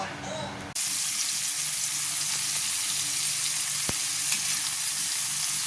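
Garlic and tomato sautéing with ground meat for ginisang upo produce a loud, steady frying sizzle close by after a brief quieter moment at the start, with a faint clink partway through.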